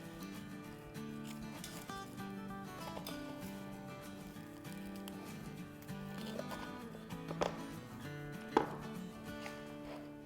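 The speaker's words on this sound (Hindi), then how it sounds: "तो मैं 4 पीसेस में काटूंगी।" A knife cutting a tandoori chicken sandwich into four pieces, repeated chopping knocks on a board with a couple of louder cuts near the end, over quiet background music.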